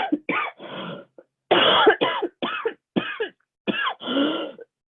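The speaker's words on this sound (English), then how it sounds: "I do apologize, guys, for all the coughing" Repeated harsh coughs come in short bursts, roughly ten of them in quick clusters with brief pauses, close and fairly loud.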